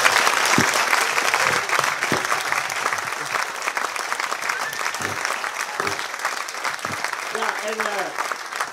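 A Dutch cycling-event crowd gives a roaring round of applause for a line-up of former pro cyclists, sustained dense clapping across the whole stretch, with a few brief voices and knocks poking through.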